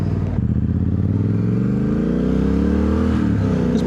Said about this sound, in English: This bike, however, as you can hear, even when you get on it a little bit, it's nice and low and rumbly